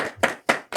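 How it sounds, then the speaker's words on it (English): Three short bursts of clapping from a studio audience greeting guest Carl Shipman, brief and fairly close, with no talk over them. "So a round of applause in the studio."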